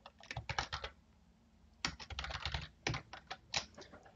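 Quick bursts of typing on a computer keyboard, close and clear, with short pauses between runs of rapid key clicks.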